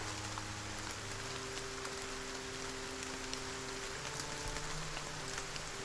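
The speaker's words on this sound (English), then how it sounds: "Oh, it's raining." Steady rain in the video game Battle Brothers, an even hiss with soft scattered drops and a low ambient hum, continuous and moderately quiet with no talk.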